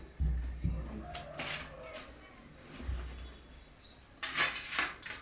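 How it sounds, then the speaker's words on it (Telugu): Plates being set down for serving dosas in a home kitchen, a few light clinks and clatters of dishes and cutlery scattered across the moment, with voices talking nearby. "ఇంక ప్లేట్లు వేస్తున్నాను"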